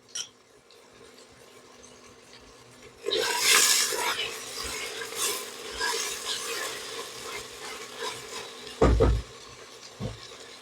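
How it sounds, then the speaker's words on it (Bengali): Onions with salt fry in a pot for haleem. A quiet sizzle turns into louder bursts of scraping and stirring, and a sharp knock of the utensil sounds near the end. "পেঁয়াজটা একটু ভেজে নিয়েছি।"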